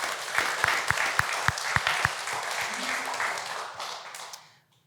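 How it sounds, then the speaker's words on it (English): An audience applauding park rangers at Timberland Park's 10-year anniversary celebration, with several loud claps close by over a steady, broad patter of clapping that fades out near the end. "Give them a round of applause."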